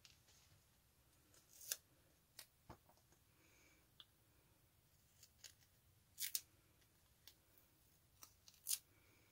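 Teflon non-stick scissors snip through double-sided adhesive tape in several crisp, separate cuts, sharp clicks spaced irregularly and heard close and alone with no talking.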